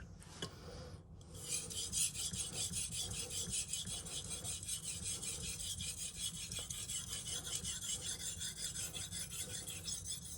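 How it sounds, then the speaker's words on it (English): Knife being sharpened on a Shapton Glass whetstone, 1000 or 3000 grit, with aggressive strokes: a steady, close, continuous rasping scrape of steel on stone, strokes blending into a constant rhythm with no talking. "But the same procedure, quite aggressive, sharpening at first."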